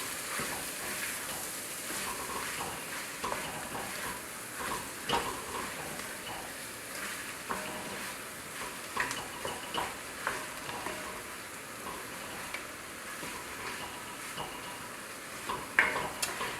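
New Orleans shrimp stew sizzles and bubbles in a pot under a steady hiss, with occasional scrapes and clicks of a spoon as it is stirred, and no talking.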